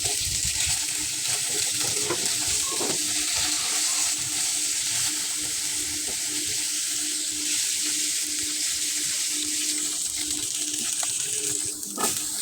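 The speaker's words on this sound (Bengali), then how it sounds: "পোয়া মাছগুলিকে আমি কড়া করে ভেজে নিব।" Poa fish fry hard in hot oil for a bitter gourd curry, giving a loud, dense, continuous sizzle that holds steady throughout with no speech.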